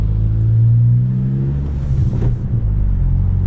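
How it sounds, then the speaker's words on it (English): A 2020 Honda Civic Si on a Ktuner tune drones along at a steady cruise, its exhaust a loud low rumble with a brief rise in engine note near the middle. "I'm gonna put the window down so we can hear the exhaust"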